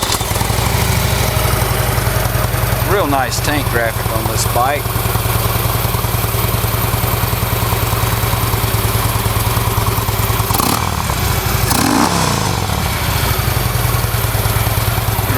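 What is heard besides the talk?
Harley Davidson Ultra Limited 103 motorcycle engine started and idling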